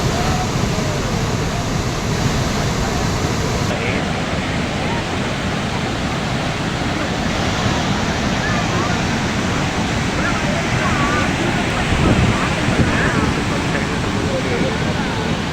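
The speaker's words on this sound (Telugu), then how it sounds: "70 అడుగుల ఎత్తు నుంచి నీరు కిందకు ప్రవహిస్తూ పర్యాటకులను ఆకట్టుకుంటోంది." Kuntala waterfall in Adilabad district, swollen by heavy rains, drops water from about 70 feet in a dense, continuous roar that stays loud and steady throughout.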